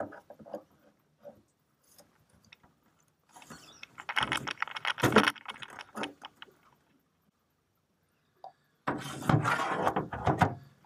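An adjustable wrench works a corroded collar on a boat steering cable fitting, with penetrating oil applied, giving close metallic clicks and ratcheting scrapes, then two louder bursts of grinding and rubbing separated by a quiet pause.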